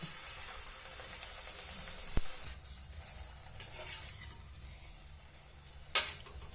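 A small test piece of kajjaya dough in hot oil gives a quiet, close sizzle and light bubbling, with a couple of brief utensil clinks along the way.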